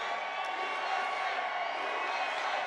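A large rally crowd at a Trump campaign event in Albuquerque, New Mexico makes a steady, broad wash of noise, with cheering and whoops blending into a distant, sustained roar.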